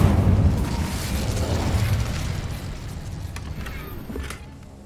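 A fiery spell blast from Incendio in Hogwarts Legacy erupts as a loud, rumbling whoosh that swells at the start and slowly fades over several seconds, with a thin crackle near the end.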